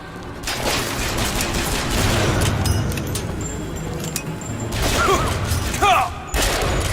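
Gunfire in Bioshock Infinite, dense rattling bursts of shots rolling through the scene at moderate distance, with brief metallic clatter and a voice speaking near the end.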